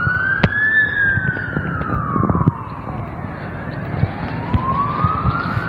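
An ambulance siren wails in slow, rising and falling sweeps amid traffic in Indonesia, loud and nearby, with engine rumble and scattered clicks underneath and no talking.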